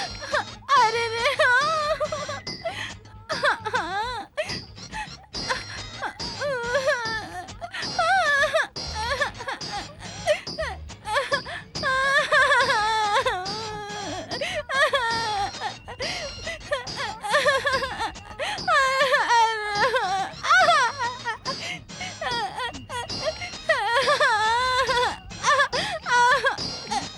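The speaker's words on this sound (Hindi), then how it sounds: "अंदर संगीत की बजाय रोने की आवाज आ रही है।" A person cries and wails indoors, sobbing and moaning in uneven bursts that continue throughout, with other sounds mixed in.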